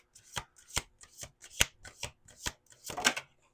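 A deck of playing cards being riffled and shuffled in several quick bursts, close and crisp, with brief pauses between riffles and no talking.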